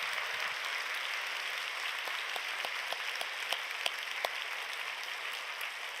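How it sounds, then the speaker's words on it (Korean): A church congregation at a Friday night worship service applauds in a soft, distant wash of clapping, with a few sharper individual claps standing out near the middle. "박수하겠습니다."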